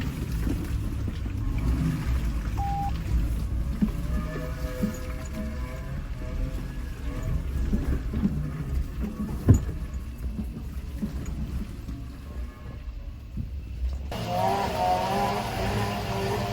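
An off-road motorcycle engine idles and rumbles steadily at close range with the throttle tapped in short blips, its low drone running throughout and rising into a brighter rev near the end.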